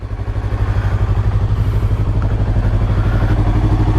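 A 2020 Yamaha YZF-R3 with an aftermarket exhaust idles close by, its engine pulsing with a steady, loud, throbbing beat and faint clatter and no talk.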